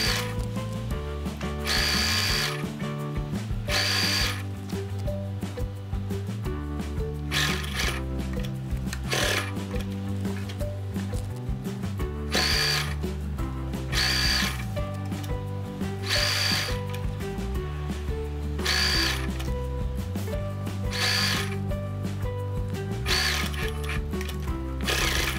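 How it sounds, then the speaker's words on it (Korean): Sewing machine stitching the side seams and hem of a long wrap skirt, running in steady whirring bursts with brief pauses between them, close and continuous throughout, with no talking. "옆선을 봉제하시면서 밑단도 같이 봉제해 주세요."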